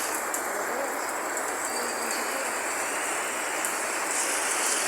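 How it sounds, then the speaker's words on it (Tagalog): Heavy rain pouring down outdoors during a sudden downpour, a dense, steady, loud wash of hiss with no let-up. "Ang lakas ng ulan."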